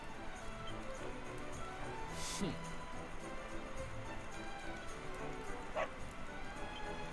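A dog barks briefly a couple of times in Downtown Heliodor in Dragon Quest XI S: Echoes of an Elusive Age, short yaps over a soft bed of game ambience.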